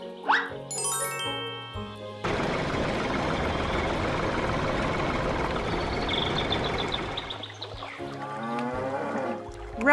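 Amid cartoon farm sounds with tinkling chimes, a cow lets out drawn-out moos, one near the start and more toward the end, over a steady noisy bed of rumbling activity.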